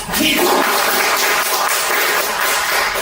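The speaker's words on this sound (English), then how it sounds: "Toastmaster Godfrey was a big applause from you guys" Sustained applause from an audience at a Toastmasters club meeting, a dense steady wash of clapping held at full level for the whole stretch, close and loud with no talk over it.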